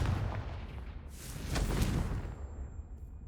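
A Confringo blasting spell in Hogwarts Legacy bursts as a rumbling explosive boom with a whooshing, crackling tail, loud and close, alone without voices.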